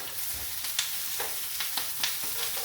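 Prawns in their shells sizzling in hot oil in a pan, a steady close frying hiss with small crackling pops scattered throughout.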